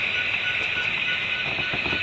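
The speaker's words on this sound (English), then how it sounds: "Seen here arriving at Southbound, Indiana is a manifest train. A train mainly of boxcars" A model railroad manifest train, mainly boxcars with a bulkhead car at the rear, arrives with a steady rolling rumble and a sustained high whine, alone and close.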